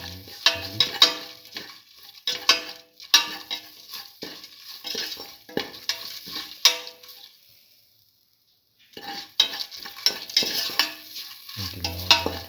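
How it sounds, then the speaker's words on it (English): Mung bean rice being stirred and mixed with salt and red chili in a pan, with repeated scraping and clinking of a utensil, a brief pause, then more stirring. "Salt and mix thoroughly."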